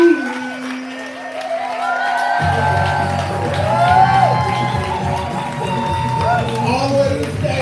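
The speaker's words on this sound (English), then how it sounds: "We're clapping. We're building energy." A poetry slam audience claps and cheers, a steady wash of applause with scattered whoops that swells in after a brief tone and continues throughout, with voices mixed in.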